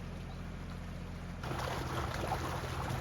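An electric motor runs off a generator driven by a tractor's PTO, a steady low mechanical drone that grows slightly louder and rougher partway through, heard close and alone.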